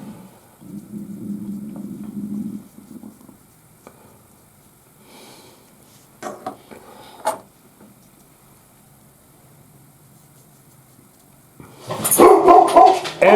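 A dog indoors gives a low whimpering growl, then a few sharp barks with quiet gaps between, ending in a louder burst of barking close by.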